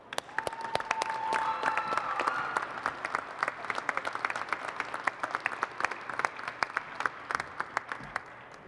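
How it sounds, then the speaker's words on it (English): A crowd at an auto show charity preview applauds for Paul with sustained, even clapping that stays full and lively throughout, carrying a faint hum of crowd noise and a brief whistle early on. "Let's give a round of applause for Paul."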